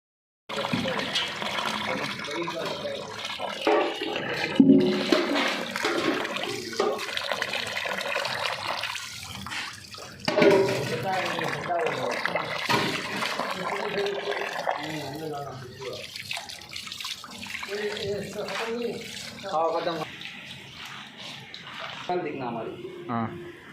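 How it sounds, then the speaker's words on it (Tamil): Goat mutton being washed with water for catering, running and splashing water with sloshing and handling sounds, while people talk throughout over the washing. "ஃபைனலாக வாஷ் பண்ணிட்டு இப்போ சுடு தண்ணியில் வாஷ் பண்ண போகிறேன்"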